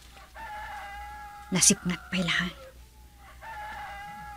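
Roosters crow twice in quick succession, loud and fairly close, in a village setting, with a voice talking before and after the calls.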